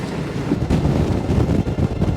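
Strong gusty wind roars across the microphone on a sailboat, the S/Y Noomi II, during a thunderstorm near 32 knots. The buffeting is loud and continuous, with water noise underneath.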